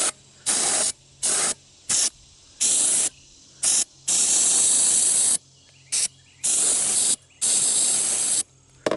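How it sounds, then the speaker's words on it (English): Short aerosol bursts sprayed into the air box of an abandoned, shop-left Tao Tao Bull 150 ATV with a GY6 engine, about eight loud hissing spurts of varying length separated by brief silences, close to the microphone. "So when I spray this in here"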